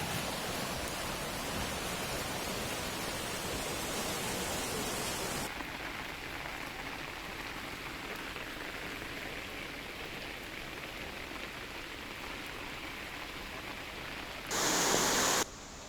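Heavy rain pours steadily during waterlogging in Dehradun, a dense, continuous hiss that softens slightly partway through, with a short louder burst near the end and no voices.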